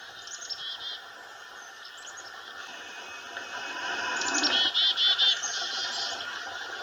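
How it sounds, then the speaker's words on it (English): Several chickadees calling in the background of a frozen wild woodland, with faint scattered chirps and a brief cluster of sharper calls near the end over a steady hiss. "you can hear about 5 or 6 chickadees in the background doing their calls"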